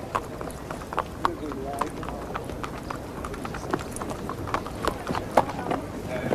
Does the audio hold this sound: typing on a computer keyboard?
no